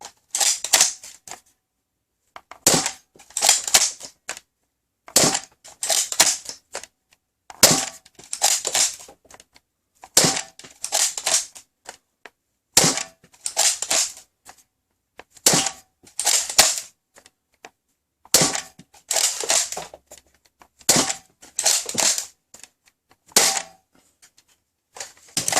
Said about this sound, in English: chronograph test with this Rhinoceros blaster